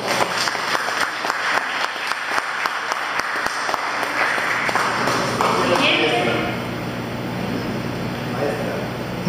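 Workshop audience applause in a chemistry classroom, a few seconds of light clapping from a small group that fades out, followed by room noise and voices talking.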